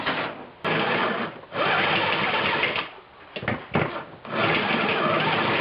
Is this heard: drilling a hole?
yes